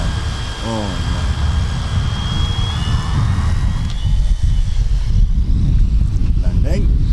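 An ultralight hand-built RC Pilatus PC6 model airplane comes in to land outdoors, its small motor whining over wind buffeting the microphone as people talk nearby.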